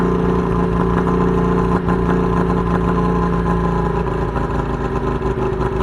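An engine on a fishing platform runs at about 1,600 RPM, a loud, steady close-up drone with a constant low hum and slight fluctuations throughout.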